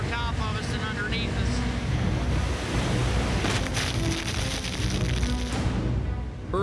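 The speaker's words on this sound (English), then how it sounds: "the Big Eye crew are hauling into a big swell and 50-knot winds" Heavy ocean swell and roughly 50-knot winds at sea around a swordfishing boat, a dense continuous roar of wind and crashing water buffeting the microphone, loud and unbroken throughout.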